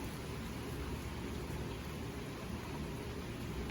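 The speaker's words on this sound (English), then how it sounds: "Feels good to hear the rain" Steady rain falls outside, a soft, even hiss of drops heard from indoors, faint and continuous with no voices.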